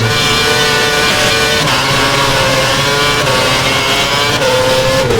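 Formula 1 race car engines in the F1 2011 video game at the Spanish race scream at high revs without pause, several cars running close together in a pack, loud and dense with brief pitch shifts as gears change.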